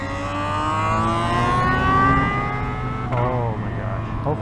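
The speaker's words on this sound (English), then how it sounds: "Hopefully you guys could hear that ZX4 double R." A Kawasaki ZX-4RR motorcycle engine revs up close in a long rising whine, drops briefly as if shifting, then climbs again, loud and steady.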